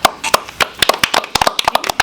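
Several hands clap in a loose, uneven rhythm, a couple of people or a small group close by, sharp individual claps rather than a full crowd, with no talk over them.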